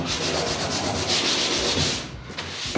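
Sustained, close abrasive rubbing as shiny spots are sanded off a Jeep J10 bedside during bodywork, a loud even scrubbing that stops abruptly near the end.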